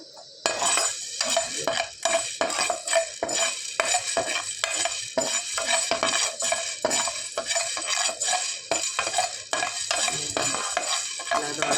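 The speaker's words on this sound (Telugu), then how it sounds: "బాగా వేయించుకున్న తర్వాత పక్కన పెట్టుకోవాలి" Black peppercorns dry roasting in a pan, with continuous rattling and scraping from a spoon stirring against the metal, close and busy, and a faint sizzle underneath, no voices.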